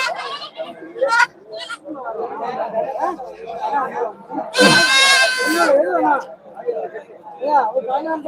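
Goats and kids bleat among the crowd at a Saturday goat market in Ettayapuram, with people chattering throughout and one loud close bleat standing out midway.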